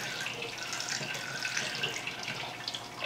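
Water poured from a measuring cup while brewing beer, a steady splashing stream running close and continuous without a break, with no voices over it.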